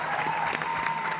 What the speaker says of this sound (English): we're supposed to clap now.